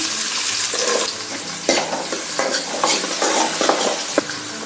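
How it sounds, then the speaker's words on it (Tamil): Chopped onions and vadagam fry in hot oil for a river crab gravy, giving a loud, continuous crackling sizzle with uneven pops and spatters and no voices. "எண்ணெய் சூடாகிடுச்சு. கொஞ்சம் போல் வடகம் போட்டுக்குவோம். வெங்காயத்தை போட்டுருவோம்."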